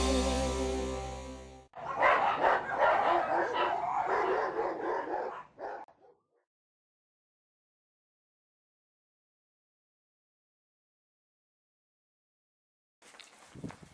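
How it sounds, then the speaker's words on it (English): Puppies at a dog rescue bark and yip in a dense, overlapping burst for several seconds after a brief musical intro, then fall silent before a faint sound returns near the end. "I want to show you some of the puppies that we have received in the latest times."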